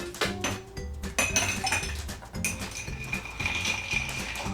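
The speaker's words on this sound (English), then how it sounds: "And then we'll add ice and stir it up." Ice clinking and rattling in a mixing glass as a Manhattan cocktail with Angostura bitters is stirred, a busy run of close glassy chinks and knocks with no voices.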